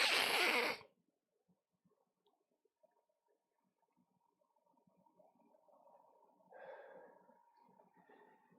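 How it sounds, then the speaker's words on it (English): A single loud, wet nose blow bursts out at the start, then near silence with faint rustling and low background murmur. "When I blow my nose, I want you to feel it in 3D."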